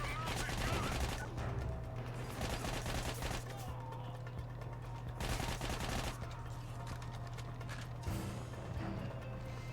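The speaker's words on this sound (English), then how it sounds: "They got a mounted gun!" Heavy automatic gunfire from a mounted machine gun in the video game Army of Two: The 40th Day, a dense continuous battle din with louder bursts near 1 s and 5 s, a steady low hum beneath and faint voices mixed in.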